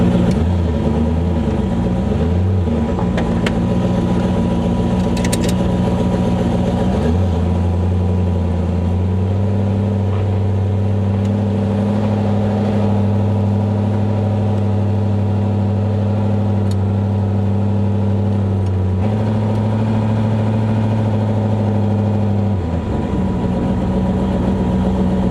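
LS-swapped Ford Mustang Foxbody driving on a rough road, a steady low engine drone heard from inside the car with two shifts in pitch as it changes speed, no talking.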